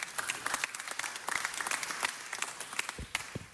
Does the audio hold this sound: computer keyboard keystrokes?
no